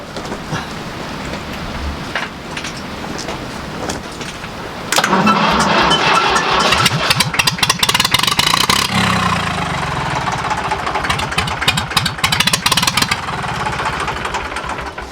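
A vintage tractor engine starts from cold with a sudden loud catch, then settles into a rough, steady chugging idle close by, with clanking and rattling over its rhythmic firing.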